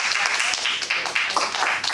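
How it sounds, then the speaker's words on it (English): Audience applause for club officers standing at a Toastmasters meeting, a steady wash of many hands clapping at close range, dense and continuous throughout with no voices over it. "let's just give them a round of applause"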